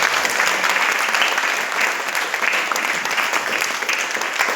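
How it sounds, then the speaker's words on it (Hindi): An audience at a company launch event in Nainital claps for a couple celebrating their wedding anniversary, with dense, steady applause throughout and no voices over it. "उनके लिए शानदार तालियां बजा दीजिए।"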